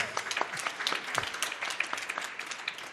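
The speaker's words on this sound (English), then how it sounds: "give him a round of applause" A symposium audience applauding a company's B Corp certification, soft, rapid scattered clapping from a moderate distance, faint and short with no voices.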